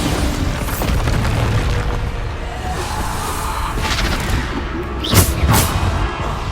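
Bombarda spell explosions in Hogwarts Legacy: rumbling booms over a constant roaring din, with a sharper, louder blast standing out near the end.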